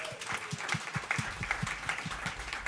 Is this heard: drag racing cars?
no